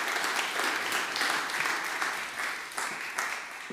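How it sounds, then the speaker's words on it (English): A church congregation applauds, a continuous, moderately distant patter of many hands clapping that holds steady for a few seconds. "And can we give these two a big round of applause,"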